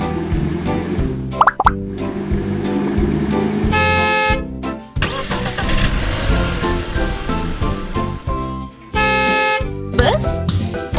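Car horn sound effect in a vehicle-names lesson for beginners, with bright tonal honks and plopping cartoon effects over a bouncy music bed, loud and close, with several distinct horn bursts separated by short gaps.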